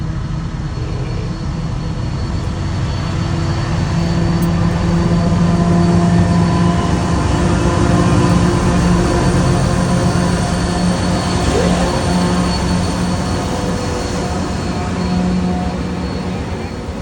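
A massive, seemingly endless double-decker freight train rolls past close by, its big engine rumbling loudly with steady droning wheel and wagon noise throughout.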